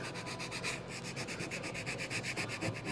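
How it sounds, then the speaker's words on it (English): Hand sanding of van bodywork with sandpaper: steady, close, rhythmic scraping strokes repeating about every fifth of a second, loud and alone with no talk. "I'm just letting the sandpaper do the work here."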